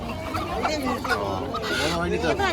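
Hens cluck and chatter in short bursts close by at a market, mixed with busy voices talking over them.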